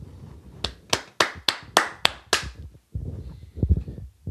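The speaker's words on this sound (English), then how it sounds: "have to give them a round of applause." A handful of people give a short round of applause, about seven sharp separate claps in a steady rhythm, then a quieter low rumble of movement or muffled noise after.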